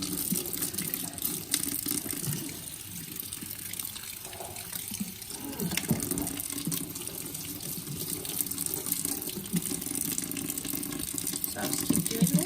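A makeup brush used for liquid or cream foundation is rinsed under a running faucet, a steady close splashing and gushing stream of water that continues throughout with small shifts in texture.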